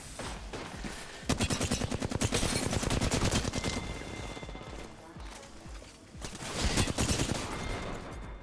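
Sustained rapid gunfire in the Apex Legends shooter with the Wingman pistol in play, dense loud bursts that pause briefly near the middle and then return in another heavy volley.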